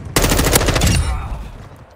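A sudden burst of rapid automatic gunfire from a Call of Duty: Modern Warfare game, loud and close, rattling for about a second before trailing off into echoing decay.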